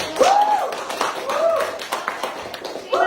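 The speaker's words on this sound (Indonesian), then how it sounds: "sekarang kita silakan beri aplaus untuk terima" A classroom audience gives a short burst of applause after a project presentation, scattered hand claps mixed with voices and a rising whoop or call.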